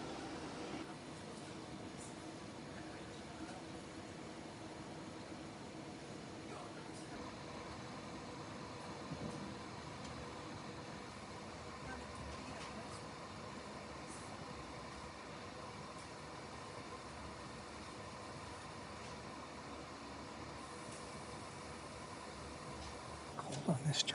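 Steady low rumble and rattle inside a moving passenger train near Verona on a cold ride, a continuous broadband hum throughout with faint creaks and a brief clatter at the very end.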